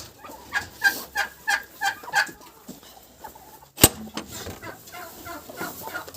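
A hen clucks in a quick run of repeated calls, then the clucking trails off into quieter scratching and rustling, with one sharp click midway.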